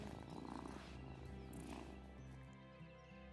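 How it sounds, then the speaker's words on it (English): A cat purrs in the video game Wylde Flowers, a soft, rhythmic rumbling purr that is close and quiet and lasts a few seconds, with no talking. "Oh, what a good purr."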